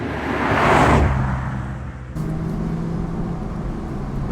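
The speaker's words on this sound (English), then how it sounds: "you get a nice sound from that exhaust" Exhaust note of a 2025 BMW Z4 M40i convertible with a six-speed manual in sport mode, a loud engine swell that peaks early and then eases to a steady, close drone.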